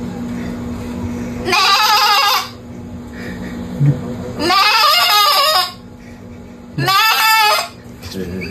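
Goat bleating in three long, wavering calls spaced a few seconds apart, fairly close and loud, over quiet background.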